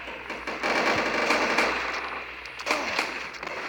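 Sustained automatic gunfire in the mobile shooter game Respawnables, dense rapid bursts of shots filling the whole stretch, loud and continuous with brief swells, no speech.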